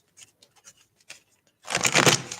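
Tarot cards being shuffled by hand, a few soft scattered flicks followed by a louder, dense riffling burst near the end, quiet and close.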